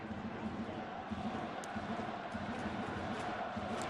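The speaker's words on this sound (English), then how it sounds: "this crowd is into it" Steady murmur and cheering of a large baseball stadium crowd in Japan during an MLB Japan All-Star Series game, a constant, moderately distant wash of voices with no clear peaks.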